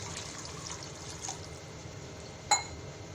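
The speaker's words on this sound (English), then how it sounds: "So what we do to make it thin, we'll add some water." Water is poured into a thick cabbage Manchurian gravy to thin it. There is a quiet, steady stream with a soft liquid splash and a single brief clink near the end, with no talking.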